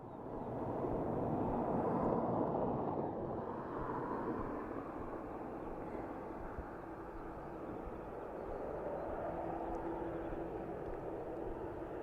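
A Ryanair Boeing 737 jet at Dublin Airport gives a steady, broad engine roar that holds for the whole stretch, strongest early and easing slightly before swelling again, with no talk.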